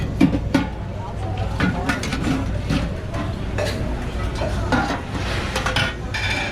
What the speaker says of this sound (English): this young man is cooking some bacon